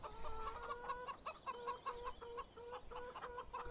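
Chickens on a farm in the video game Farming Simulator 17, a flock clucking in quick repeated bursts, close and fairly faint with no talk over it.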